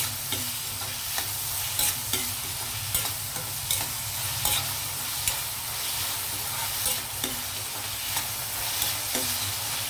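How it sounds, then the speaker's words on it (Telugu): Onions frying in a pan for gongura prawn curry, a dense continuous sizzle with frequent soft scraping stirs, close up and steady throughout. "కొంచెం ఆనియన్ ఫ్రై అయ్యాయి కదండి"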